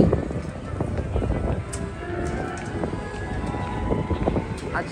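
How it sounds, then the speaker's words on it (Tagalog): Cold, blustery wind sweeping a Manhattan street near Avenue of the Americas at Christmastime, a steady broadband rush with microphone buffeting, mixed with city bustle, clopping hooves and people talking nearby. "it's really cold and windy"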